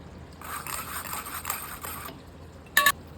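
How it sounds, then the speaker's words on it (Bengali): Mutton gravy is strained into a biryani pot, a soft, steady pouring hiss lasting a couple of seconds, followed by a brief metallic clink. "এখন আমি মটনের গ্রেভিটাকে ছেঁকে এর মধ্যে দিয়ে দেবো।"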